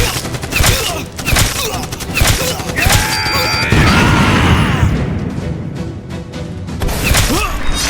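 Gunfire in a war film battle scene, a dense fusillade of rapid shots and booms running loud and steady throughout, mixed with shouting voices and film score.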